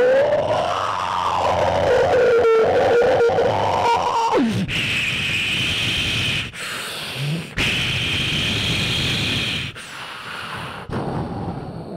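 On stage at a comedy show, a performer's voice imitates a cyclone's roaring wind with landslides, sweeping from a howling wail into sustained harsh hissing bursts broken by short gaps, loud and close throughout.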